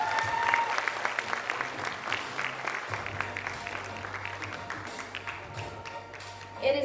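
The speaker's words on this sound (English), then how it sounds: "A round of applause again, please." An audience claps at the finale of a pageant for 18 contestants, with steady applause throughout, a voice over a PA system, and background music humming beneath.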